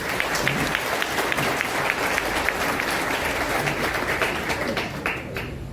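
Steady, dense applause from a large audience at an education and talent honour ceremony of a trust, celebrating students who passed their exams, with many hands clapping continuously throughout.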